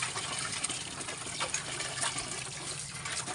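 Water gushing from a hand pump: a continuous hissing splash, steady and moderately loud, with faint irregular surges throughout.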